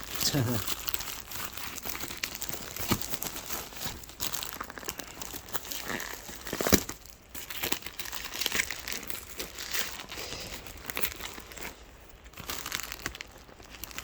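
Close plastic packaging of an Entronic Vigilante Z-100 smoke alarm crinkles and crunches as it is cut and pulled open, in irregular bursts, with a person talking throughout.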